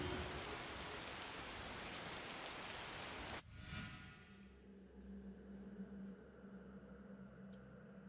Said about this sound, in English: The rain effects in this game is crazy.